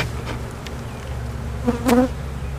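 Honey bees buzz in a dense, continuous hum while a beehive is split and a box of capped brood is moved, with a couple of brief clicks from handling the equipment.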